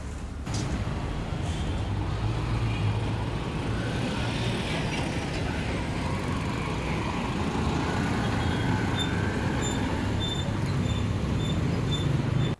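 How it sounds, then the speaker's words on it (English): Road traffic at a Freetown intersection with vehicles of various kinds moving steadily, a constant broadband wash of engine and tyre noise with faint high tones, loud and unbroken from start to finish. "Traffic at the Freetown intersection is flowing smoothly and freely, with vehicles and various means of transportation moving at a steady pace"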